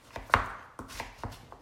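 A knife chops vegetables into chunks for Caribbean corn soup with yellow split peas, giving four or five crisp, close cuts on a board at an uneven pace.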